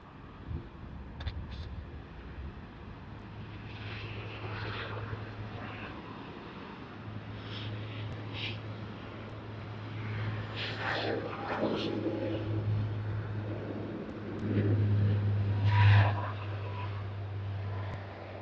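An aircraft at Sydney Airport rumbles with a steady low drone that swells toward the end, heard at a distance under wind noise and intermittent radio chatter.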